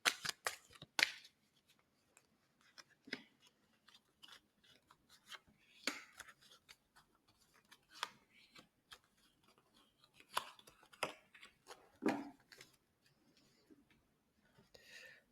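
Tarot cards being shuffled for a reading, heard as quiet, irregular bursts of soft card riffles and slaps separated by brief pauses, close and fairly faint.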